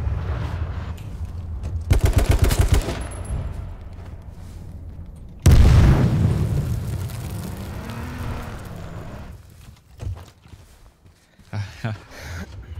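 Gunfire in the battle royale game H1Z1: King of the Kill: a rapid burst of shots around the second mark, then a loud heavy blast, with someone talking over the action.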